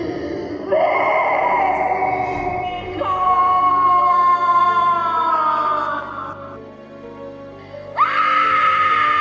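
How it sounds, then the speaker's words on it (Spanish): A woman's long, wailing scream portraying the ghost La Llorona in a told legend, loud and sustained over several seconds with shifting pitch, rising again into a sharp shriek near the end, accompanied by an eerie background drone. "y comenzó a gritar"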